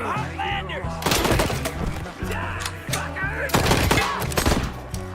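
Loud bursts of gunfire erupt in the video game Wasteland, with rapid clusters of sharp shots around the one-second mark and again near the end, over a busy background of game sound.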